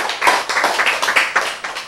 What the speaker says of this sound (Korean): 폭발적으로 박수가 나와야 돼.